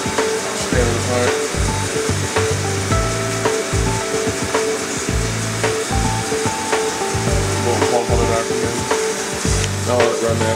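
Repaired machine spindle running in after grease-packed bearings: a steady, loud mechanical whir with a constant high whine and rough, rubbing low-frequency churning, continuous throughout and without talk.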